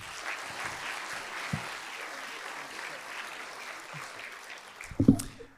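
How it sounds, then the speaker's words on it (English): An audience at a port's annual State of the Port event applauds a panel steadily, a dense wash of clapping that swells briefly near the end. "one more round of applause for our panel"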